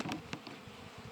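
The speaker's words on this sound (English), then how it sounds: "All the bees go down in there." Honey bees in an open beehive during a frame inspection, a low steady hum of many bees close by, with a few louder passing buzzes of single insects near the start.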